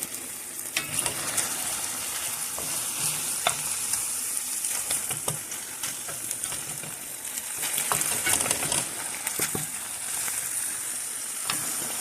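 Ethiopian beef tibs fry in a little cooking oil, giving a steady close sizzle with scattered scraping and clinking as the meat is stirred, no voices.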